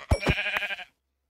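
A Minecraft sheep gives a short, loud, close bleat with a buzzy wavering tone, running under a second before cutting to silence.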